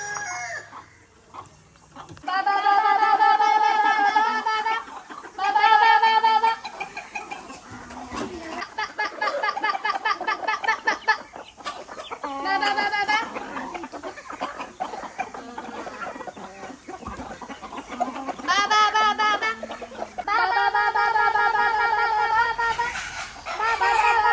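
Free-range country chickens raised the traditional way cluck and squawk loudly in repeated harmonic bursts close by, with a rooster-like call among them and occasional voices in the background.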